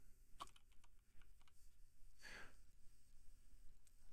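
A few sparse, faint keyboard keystrokes as someone enters code into a Delphi application, soft clicks scattered over a quiet background with a brief breathy burst midway.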